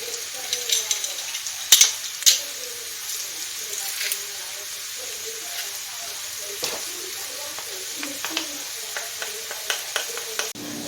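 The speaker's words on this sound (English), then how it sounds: "I'm going to go ahead and add 3 cloves of minced garlic" Three cloves of minced garlic sizzling in a pan for supper, a steady bright crackle with spoon scrapes and clinks, louder clatters early on, and a voice talking faintly underneath.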